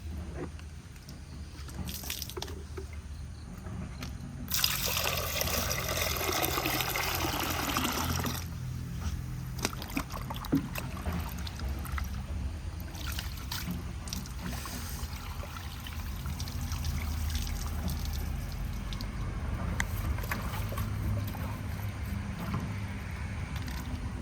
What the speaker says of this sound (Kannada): ಇದಕ್ಕೆ ಸ್ವಲ್ಪ ಡೈರೆಕ್ಟ್ ನೀರು ಹಾಕುವ